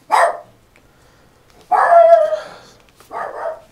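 A dog indoors lets out three loud, sharp barks spaced apart, the middle one longer and more drawn out, with near silence between them.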